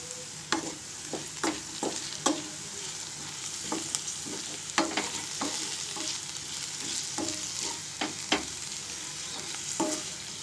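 Salted cabbage fries in a pan with a steady broadband sizzle, broken by repeated sharp spatula scrapes and clinks as it is stirred, close and moderately loud with no voices.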